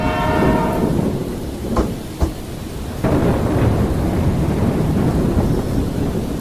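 A train rolls into a station on a stormy evening as an animated sound effect. It is a loud, continuous rumble, opening with a sustained horn note, with sharp crack-like bursts and thunder-like booms in the middle.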